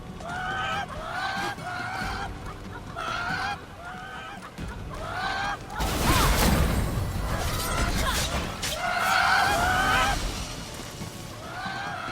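Chickens unleashed as an attack in the game Immortals Fenyx Rising squawk and honk in loud repeated bursts, then a crashing, shattering impact near the middle before the frantic clucking returns.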